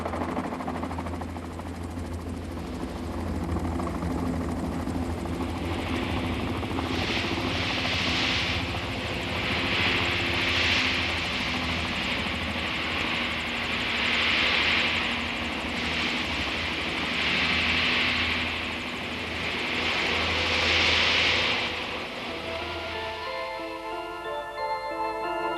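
A helicopter lands in the desert at Loulan, at the eastern edge of the Taklamakan, its loud engine roar throbbing with rotor pulses that swell and fade several times before settling, with no voices.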